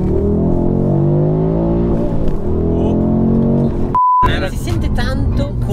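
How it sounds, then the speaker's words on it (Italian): An Audi 4x4 accelerates hard under launch control, its engine droning and rising in pitch beneath excited talk from people inside, then cut by a brief electronic beep before the revving resumes. "adesso sentirò l'accelerazione del 4x4"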